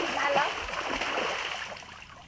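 Water splashing and sloshing in a bathtub during a bath in a Bhojpuri comedy scene, a steady close wash of splatter lasting about two seconds with voices underneath.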